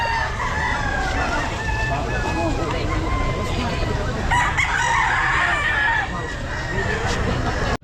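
Roosters crow repeatedly at a busy outdoor pet market during rain, several calls overlapping against a steady wash of rainfall and crowd babble, with people talking nearby throughout.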